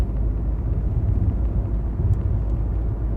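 Car driving along a road heard from inside the cabin, a constant low rumble of engine and road noise with a steady drone and no speech.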